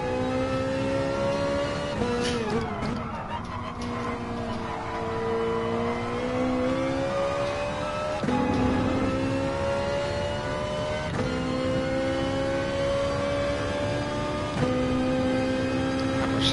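Race cars in Gran Turismo Sport engines droning together at the race start, steady rising and falling tones as the pack accelerates, with a few shifts, loud and continuous with no talk.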